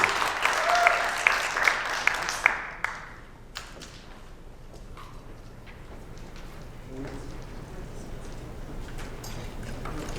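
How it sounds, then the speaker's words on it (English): Audience applause at a League of Women Voters area board candidate forum, a brisk round of clapping for a few seconds that quickly dies away as a speaker resumes talking. "Please give our candidates a round of applause for their coming out and sharing their goals and knowledge with you."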